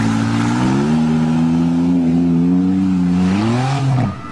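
A car engine revs hard against the rev limiter at a jump event, a loud sustained roar with steady harmonics that bounces slightly at the limiter before dropping off abruptly near the end.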